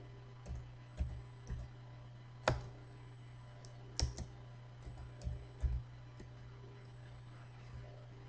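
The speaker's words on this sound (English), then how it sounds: "so I'm going to click next." Sparse, sharp mouse clicks on a computer while a Linux Mint virtual machine is set up in VM Workstation, a handful of isolated clicks spaced irregularly over a low steady hum, close and fairly quiet, with no talking.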